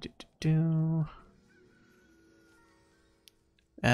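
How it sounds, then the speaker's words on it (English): A rooster crowing inside the video game Fortnite, one loud drawn-out crow lasting about half a second, then fading under quiet game ambience with short clicks around it. "the rooster crows"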